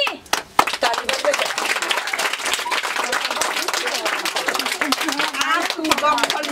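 A group of people clapping in a Maithili comedy scene, quick irregular claps that build into a dense rattle, heard fairly close with voices and crowd noise mixed in.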